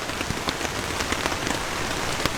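Rain drums on a tarp shelter on New Zealand's west coast, a dense close patter with scattered sharper drops striking the fabric, steady throughout and without speech.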